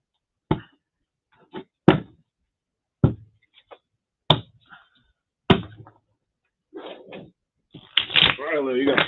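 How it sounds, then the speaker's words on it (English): Playing cards are shuffled and snapped close by in sharp, separate bursts spaced about a second apart, followed by a voice speaking over the last moments. "you got plenty of shuffles"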